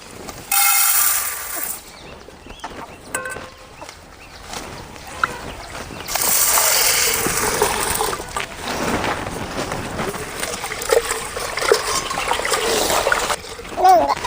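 Toor dal is rinsed and swished by hand in a vessel of water for sambar, giving wet splashing and sloshing that comes in bursts, louder near the start and again midway, with some background talk.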